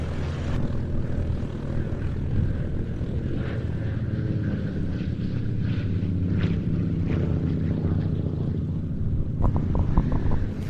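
A historic propeller aircraft flying at an IWM Duxford flying day gives a steady, loud engine drone with buzzing overtones, continuous throughout with wind noise on the microphone.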